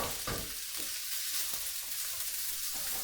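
Vegetables for chow mein tossed in a hot pan, a close steady frying hiss broken by a few sharp spatula knocks and stirring scrapes, with no talking.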